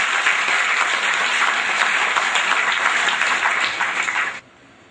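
An audience at a school ceremony in Jodhpur gives dense, even applause to welcome guests onto the stage. It stays loud and continuous, then cuts off abruptly near the end.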